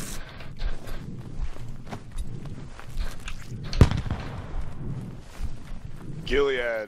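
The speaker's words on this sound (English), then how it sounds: "Watch out, someone threw a nade." A single grenade detonation in the military shooter Squad, one sharp loud blast midway through, surrounded by busy battlefield noise, footsteps and a few other low thumps.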